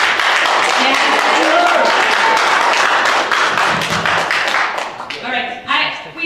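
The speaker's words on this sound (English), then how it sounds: "we don't usually have applause" Audience applause at a city council candidate forum in South Bend, a loud sustained burst of clapping with scattered voices mixed in, thinning out toward the end.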